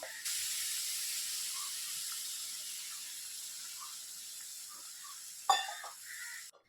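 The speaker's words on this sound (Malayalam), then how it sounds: "ഇനി നമുക്കിത് വേവാനാവശ്യമായ 450 ml തിളച്ച വെള്ളം ഒഴിച്ചു കൊടുക്കാം" Boiling water poured onto roasted wheat semolina gives a steady hissing sizzle, with a sharp clink partway through before the sound cuts off.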